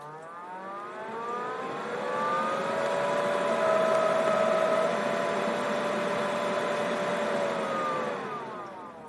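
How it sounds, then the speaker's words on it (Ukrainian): A Fronius welding machine's cooling fan whirs up to a steady, tonal hum over about two seconds, holds for several seconds, then winds down near the end, heard alone. "Включився вентилятор, секунд десь на 5 на 7 і виключився."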